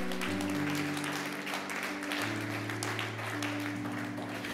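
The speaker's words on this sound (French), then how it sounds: "Oui, tu peux acclamer, tu peux acclamer." A church congregation applauds and cheers in a steady, dense wash of clapping and voices over sustained musical tones, continuous throughout.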